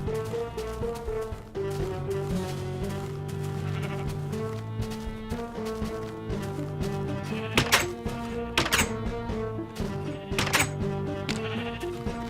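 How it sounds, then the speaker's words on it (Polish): Minecraft sheep bleat in a farm-building game, several bleats breaking through a steady layer of game music. "No i mamy kolejną owcę."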